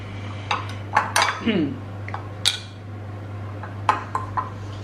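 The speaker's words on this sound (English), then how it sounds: "Just gonna finally, very nicely mix that into all the mince." Utensils scrape and clink against a bowl while Vegemite is mixed into raw mince, with scattered bright taps and knocks in short irregular bursts over a steady low hum, close by.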